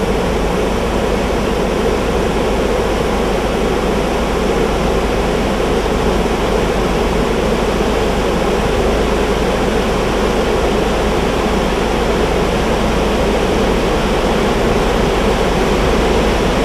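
An overflowing river's floodwater rushes in a loud, continuous roar, steady and unbroken, with no voices.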